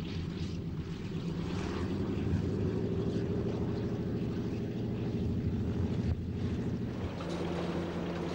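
A charter airplane drones steadily overhead, a continuous low propeller-and-engine rumble with a broad airy wash, moderately loud and unbroken for several seconds, with no voices.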